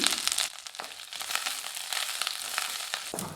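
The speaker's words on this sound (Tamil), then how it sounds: "கருவேப்பிலை சேர்த்து ஓரளவுக்கு நல்லா வதக்கியாச்சுங்க" Garlic cloves, dried red chillies and curry leaves fry in oil in a pan, giving a steady, close crackling sizzle with occasional sharp pops and stirring scrapes throughout.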